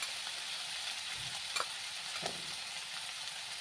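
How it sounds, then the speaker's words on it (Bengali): Potatoes and greens frying in a pan with salt and turmeric give a soft, steady sizzle, broken by a few quick stirring scrapes near the middle. No one speaks. "এখন তাকে সুন্দরভাবে এখানে ভাজবো"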